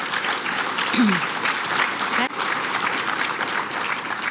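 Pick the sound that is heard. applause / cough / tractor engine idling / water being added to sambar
applause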